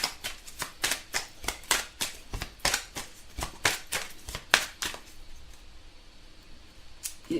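Tarot cards are drawn and handled from a deck, producing a run of crisp, evenly spaced flicks and slaps that stay close and quiet, then thin out into soft rustling near the end.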